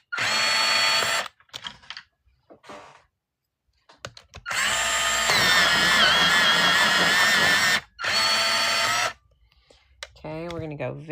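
Several bursts of a small whirring sharpener working on a coloured pencil, the longest a few seconds of steady close buzzing, separated by pauses with faint handling noise and a little talk.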